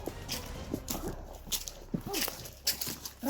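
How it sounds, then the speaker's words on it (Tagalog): Dogs outdoors, with short whimpers and yelps rising over scuffling footsteps and movement, fairly close and intermittent, alongside some faint background voices. "madaming yung aso dito."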